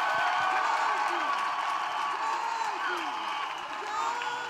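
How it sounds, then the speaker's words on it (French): A church congregation at an intercession and combat prayer service gives a long, steady burst of applause and cheering, with whoops and raised voices mixed into the dense crowd noise. "Acclamation. Clap of free."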